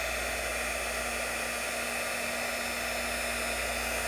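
Electric heat tool blowing steadily while melting embossing powder onto a fruit pit coated in glaze, a constant close airy whoosh with a faint hum, running alone without pause.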